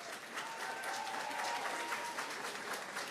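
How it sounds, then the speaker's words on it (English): Dense, steady applause from a live audience at the Dead by Daylight 10th anniversary event, filling the whole short stretch at an even, close level. "So, a big round of applause to them."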